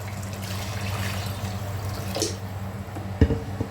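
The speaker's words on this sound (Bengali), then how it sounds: "এখন আমরা পরিমাণ মতো ঝোল দিয়ে দিব এর মাঝখানে" Broth being poured into a pan of mustard hilsa masala, a soft wet trickle and splash under faint kitchen background noise, ending with a brief clink.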